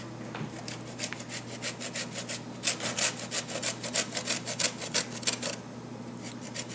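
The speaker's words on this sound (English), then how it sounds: "you're just going to use the grater, and you're just going to grate the lemon zest in there" A lemon is rubbed against a kitchen grater to take off the zest, making close, rhythmic rasping strokes in a quick steady series with no talking.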